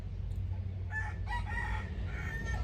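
A rooster crows at a moderate distance, a single drawn-out call with a faint lead-in, heard over a steady low hum in an indoor room with an open door.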